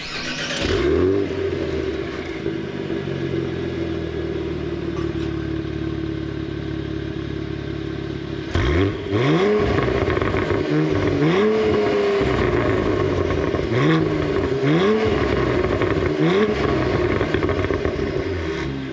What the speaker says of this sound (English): the exhaust itself has been tuned to be much more aggressive